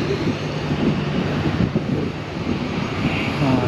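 An airplane begins to taxi at an airport, heard from outside: a steady, loud engine drone with a low hum and wind buffeting the microphone, continuous throughout with no talking.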